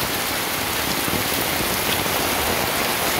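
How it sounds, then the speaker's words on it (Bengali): Heavy pouring rain in Mawna, Gazipur, a dense, uniform roar of drops hitting surfaces close by, constant and loud throughout with no voices. "কঠিন বৃষ্টি হচ্ছে মুষলধারায়"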